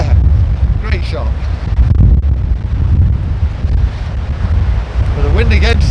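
Strong wind buffets the microphone on a golf course, a loud steady rumbling roar throughout, with people talking briefly under it.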